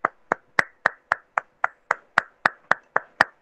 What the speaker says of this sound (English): All clap.